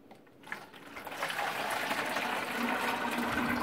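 Homemade sweet cherry liqueur is poured into a jar, a steady, fairly quiet liquid trickle and splash that starts after a brief lull and continues evenly to the end, with faint clinks against the glass.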